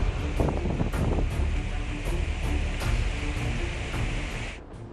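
Strong wind from Cyclone Amphan in Odisha roars as a steady broadband rush with gusty surges, loud and continuous, then drops off briefly near the end; no speech.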